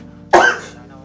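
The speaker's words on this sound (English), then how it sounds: "No, I had to cough." One short, sharp human cough, close and loud, fading quickly into a quiet room.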